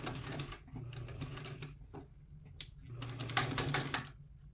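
A sewing machine stitches a two-piece collar in two bursts of fast, rattling mechanical stitching separated by a short pause, close and moderately loud with no talking.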